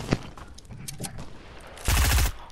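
Gunfire in a shooter video game cracks out as a brief, loud burst of rapid shots near the end, after a few scattered softer pops and quieter game sounds.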